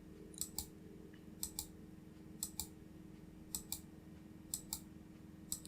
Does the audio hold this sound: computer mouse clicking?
yes